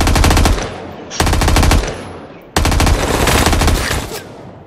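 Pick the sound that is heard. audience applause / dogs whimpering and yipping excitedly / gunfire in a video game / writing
gunfire in a video game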